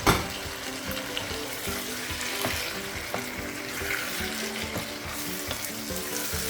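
Tomatoes hit a pan of Ghanaian garden egg stew and fry with a loud, continuous sizzle close by, marked by a few soft stirring knocks, with no voices.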